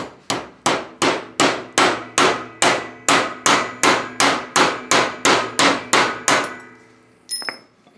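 A bearing race is hammered off a 2025 Honda Dax 125 triple tree: about fifteen sharp, ringing metallic blows in a fast, even rhythm, close and loud, then a pause and a final light clink.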